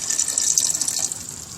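Water pours steadily into a cooking pot of potatoes, a close continuous splashing trickle that holds for under two seconds with no talk over it.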